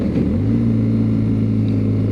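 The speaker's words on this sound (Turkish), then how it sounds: "Hem motor kompreksiyonunu bindiriyorum hem yavaş yavaş." A 2012 BMW GS Adventure motorcycle engine-braking slowly down a very steep hill in low gear, giving a steady low droning hum with a constant, even loudness throughout.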